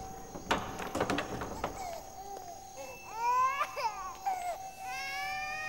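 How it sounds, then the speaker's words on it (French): Infant crying in sobbing bursts, loud at first, then turning into higher wailing whimpers over a constant background hiss and hum, fairly close. "Ce sont les cris de mon fils qui vous dérangent, madame?"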